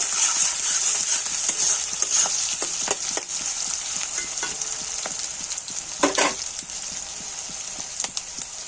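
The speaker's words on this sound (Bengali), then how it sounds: "পেঁয়াজ কুচি, দিয়ে নাড়াচাড়া করে নেব।" Chopped onion fries in a pan while being stirred, giving a steady close sizzle with scattered scraping and clicking strokes of the spoon, no voices.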